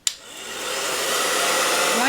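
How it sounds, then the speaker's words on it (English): A blow dryer on a medium heat setting, aimed at pressed eyeshadow on wax paper, clicks on and then roars steadily and loudly close by, its airy whoosh rising slightly and holding. "I'm just going to take my blow dryer and like evaporate it some more"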